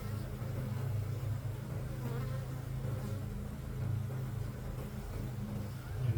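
Honeybees drone steadily throughout an open hive inspection in mid spring, a continuous low buzzing hum that is close and moderately loud, with no voices.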